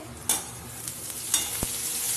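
Snake gourd frying in a wok gives a soft, quiet sizzle while a utensil stirs it, with a few scraping strokes against the pan.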